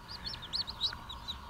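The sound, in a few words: baby chicks peeping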